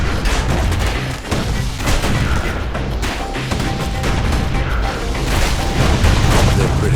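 Gunfire from a security skiff in the action game Bastion: dense, booming bursts of shots and explosions pound steadily over a rumbling game soundscape.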